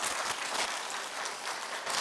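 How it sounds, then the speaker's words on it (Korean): A church congregation gives a short round of applause at an early-morning service, an even patter of many hands clapping at moderate, steady loudness. "예, 박수 한번 해주세요."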